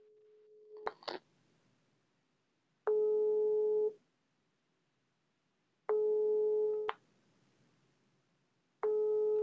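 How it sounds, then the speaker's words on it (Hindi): A phone call ringing tone on an international internet call: after a few clicks, a steady electronic tone sounds in one-second bursts separated by about two seconds of quiet. "इसका बिल रिंग तो बहुत अच्छा जा रहा है"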